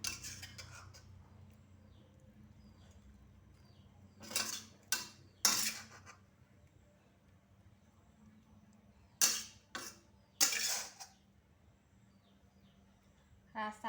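Metal utensils clinking and scraping against a plate while stir-fried genjer with shrimp paste is served, two brief clusters of sharp close clatter separated by quiet room tone.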